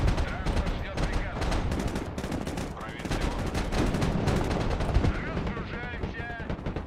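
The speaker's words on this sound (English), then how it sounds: "There's the gunship. It's firing." Sustained automatic gunfire from a gunship in the video game Broken Arrow, dense rapid bursts layered with heavier booms that fill the whole stretch at steady loudness, with battle noise throughout.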